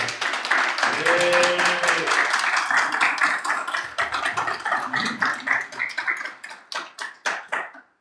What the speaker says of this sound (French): Je demande à mon candidat, Franck Chopin, que j'espère être le député de la diaspora, de venir nous rejoindre sous votre acclamation